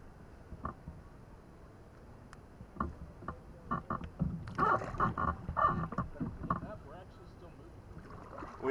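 A kayak being paddled down the White River, with intermittent splashes and water swishes from paddle strokes growing busier midway, mixed with light wind noise outdoors.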